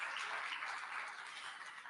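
Faint, steady round of applause from a college audience at a spring opening gathering, a diffuse wash of many hands clapping at a distance for a couple of seconds.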